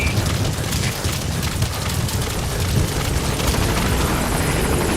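A support helicopter in the video game Metal Gear Solid V arriving at a landing zone: a loud, dense rotor roar that fills the clip, close and continuous, with no talk over it.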